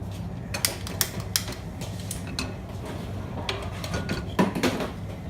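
A kitchen stove is switched on to high heat for stir-frying cauliflower rice in ghee, with a series of sharp clicks and knocks at irregular intervals over a quiet room background.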